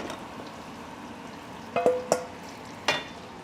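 Bok choy frying in a pan gives a soft, steady sizzle close by, broken by a few sharp crackling pops near the end.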